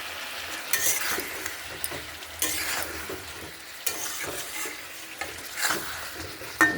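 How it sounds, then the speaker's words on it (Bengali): Cauliflower is stir-fried in a pan with a little water added, giving a steady sizzle broken by regular scraping strokes of a spatula every second or so, close up with no voices. "আর একটু জল দিয়ে ভালো করে ফুলকপিগুলো কষে নেব"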